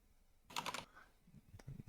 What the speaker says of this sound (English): I hear you typing, Jimbo.